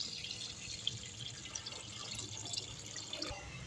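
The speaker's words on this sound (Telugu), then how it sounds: "రైస్కి సరిపడా వాటర్ వేసుకోవాలి. నేను అందాజతో పోస్తున్నానండి" Water poured into a pot for tomato rice, a quiet steady trickle and splash of liquid with small drips, soft and close with no talking.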